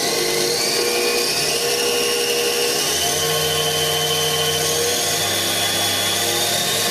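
A Daewoo DMV5025-50 CNC vertical mill spindle runs at 3,000 RPM, giving a steady, loud machine whine with a constant tonal hum and a low rumble entering partway through.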